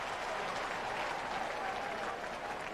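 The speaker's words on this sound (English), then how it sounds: "And the crowd clapping because the tight ends made a grab today." A stadium crowd at a Tennessee versus Alabama-Birmingham college football game claps in a dense, sustained wash of applause, steady and moderately loud throughout.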